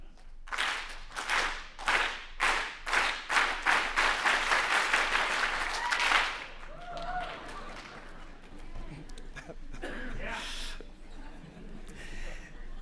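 An audience at an awards event joins in an organized clap, sharp synchronized claps that start spaced and then speed up into a rapid run before ending, followed by quieter scattered sounds and a voice.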